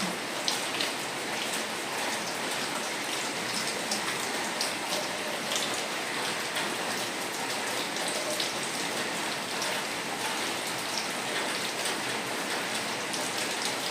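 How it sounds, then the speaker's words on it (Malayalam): Steady, dense heavy rain outside, heard from indoors, hisses and patters on surfaces throughout, a constant broadband wash with no voices. "നല്ല മഴ വരുന്നുണ്ട് പുറത്ത് നല്ല മഴ"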